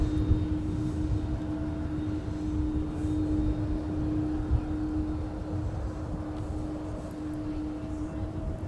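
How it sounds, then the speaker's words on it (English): A Boeing 787 Dreamliner at Minneapolis–St. Paul airport, heard as a steady, far-off jet engine rumble with a constant tonal hum and broadband roar that holds level throughout. "here it is in all her glory, the Dreamliner"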